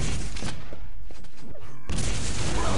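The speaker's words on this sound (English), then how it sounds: "Oh, that last rocket, Reaper just casually strafing into it." Rocket explosions in the video game Quake during a competitive league match: several loud, booming blasts in quick succession, then a sustained roar of noise, dense and up front.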